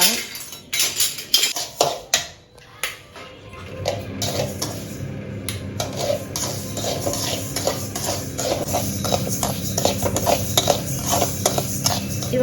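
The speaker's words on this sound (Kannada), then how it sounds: "ಲೋ ಫ್ಲೇಮ್ ಇಟ್ಕೊಂಡು ರಾಗಿ ಹಾಕೊಂಡು ಫ್ರೈ ಮಾಡಬೇಕು ಸ್ವಲ್ಪ" Ragi (finger millet) is dry-roasted in a pan over a low flame, with sharp metallic scrapes and clinks of a utensil against the pan, then a steady rustle and scratch of grains being stirred.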